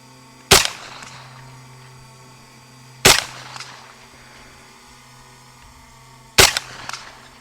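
Three sharp gunshots from a Henry Homesteader 9mm pistol-caliber carbine, fired slowly a few seconds apart at a shooting range, each loud crack followed by a short echo tail, with no talk between shots.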